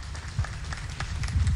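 Applause from an audience welcoming a guest at the launch of the 2025 KAS National Sports Career Fair and Expo: steady, dense clapping from a crowd that carries through, with a few louder bursts.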